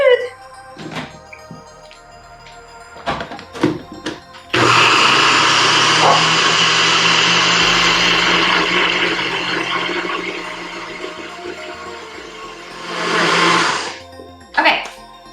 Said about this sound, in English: Blend it up till it's all smooth.